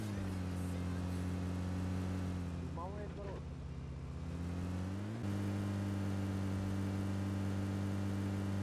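A vehicle engine in the video game PUBG Mobile hums steadily and loudly throughout, with a brief rev shift midway and faint background game noise.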